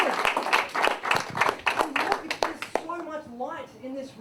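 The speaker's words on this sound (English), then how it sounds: "round of applause for all of these people working on this little show today" A small audience claps steadily for a few seconds, fairly close, with the applause thinning out and fading as a voice begins talking near the end.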